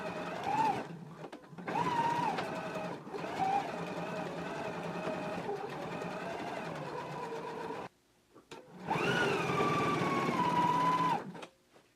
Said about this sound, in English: let's go ahead and stitch all the way around the neckband now